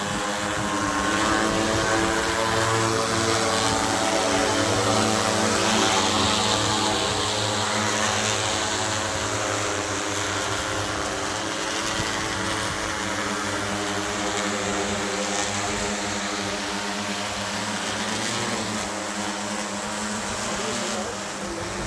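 An agricultural spraying drone flies at a Corteva Pioneer drone demonstration event in Sakrohar. Its rotors give a loud, steady, buzzing whine that fills the whole stretch and holds at an even level.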